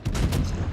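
Gunfire in a naval battle video game, a short dense burst of booming shots with a heavy low rumble, loud and close.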